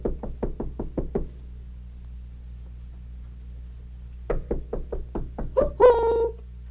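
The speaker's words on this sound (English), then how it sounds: "somebody knocking at the door, Josh?" A series of sharp, close knocks on a door in a 1950s television puppet show: two quick bursts of about six raps each, separated by a silent pause, with a voice rising after the second burst.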